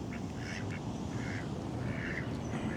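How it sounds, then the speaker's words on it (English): Ducks in a park give soft, scattered quacks at a distance, with several brief calls over steady outdoor background noise. "I'm going to try not to get distracted by all the duck action over here in the park."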